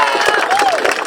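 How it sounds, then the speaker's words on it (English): A crowd at a park ribbon cutting claps and cheers for the council members in a short, dense burst of applause. "please, just a quick round of applause"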